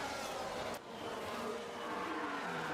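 A Formula 1 race car in F1 Manager 24 brakes hard at the Hungarian circuit in Budapest. Its engine and tyre roar stay loud and continuous throughout, with a brief dip near the start and no talking.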